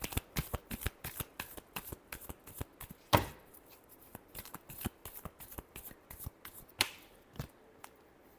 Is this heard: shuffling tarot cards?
yes